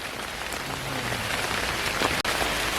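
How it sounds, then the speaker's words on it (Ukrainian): Heavy rain pours steadily through a forest canopy, a dense, continuous close hiss of drops striking leaves and ground with no pauses and no voices. "Спустився більший дощ."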